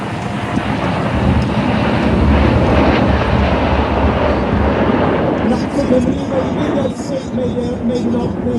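Red Arrows jets roar past at the Blackpool airshow, a loud broad rush of engine noise buffeted by wind, while an announcer talks over it throughout.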